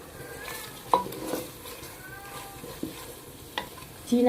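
Nuts being fried in a pan for chicken roast, low quiet sizzling broken by several sharp scrapes and knocks of a utensil against the pan, close and with no talking.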